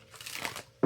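Tarot cards being shuffled by hand, a soft papery riffle and crinkle that swells and fades over under a second, ending in a sharper knock.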